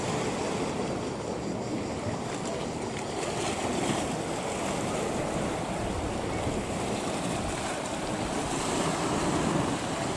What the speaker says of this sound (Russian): вот потрясающей чистоты моря стихия.